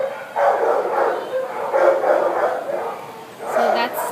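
Several dogs in the quarantine kennels of a city animal shelter bark and whimper in repeated bursts, close and echoing, with no talk over them.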